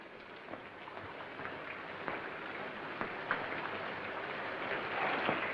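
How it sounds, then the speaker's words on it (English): Steady rain falls outside at night, a dense even hiss with scattered drop ticks throughout, growing slightly heavier toward the end, with no voices. "Hurry up, it's raining."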